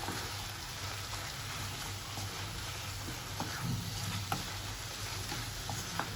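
Food stirred and frying in a pan while onions, green chillies, salt and chilli powder cook down for a Telangana mutton gravy curry, a steady low sizzle with soft scraping stirs and a few clicks of the spoon.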